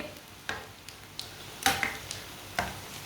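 Crispy kebabs fry in very hot oil while being flipped over. A soft, steady sizzle runs underneath a few sharp clinks and scrapes of a utensil against the pan, all fairly quiet and close.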